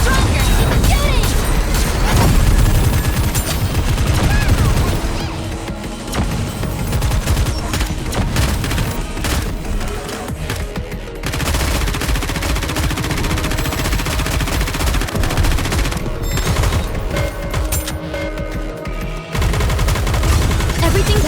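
Rapid, sustained gunfire in Nikke: Goddess of Victory, loud continuous bursts of shots layered over game music and effects, with brief pauses and voices calling out in the mix.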